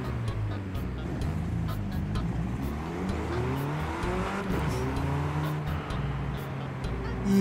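A Mini Cooper JCW GP in Forza Horizon 5 drones steadily under load, its engine pitch rising and falling through the gears, with sharp exhaust pops and crackles spaced throughout. A voice is faint in the background.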